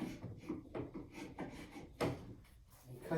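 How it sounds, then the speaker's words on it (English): Chisel paring off small leftover bits along a wooden picture frame, a series of short scraping and rubbing cuts, close and fairly quiet, with no talking. "So I'm just taking the chisel"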